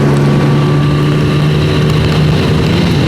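Motorcycle with a five-speed gearbox running hard at speed, a loud, continuous engine drone mixed with rushing wind, steady throughout with no clear gear change.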